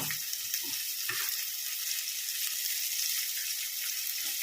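Onions for a paneer kadai vegetable gravy sauté in a pan, giving a steady, moderately quiet sizzle with a few faint scrapes and taps and no talking.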